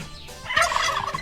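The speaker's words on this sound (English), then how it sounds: "there's so many fucking turkeys out here and they're so fucking loud" Wild turkeys gobble loudly in the hunting video game Grand Slam Turkey Hunt, with a rapid rattling gobble that swells after a quieter start and stays close and alone without speech.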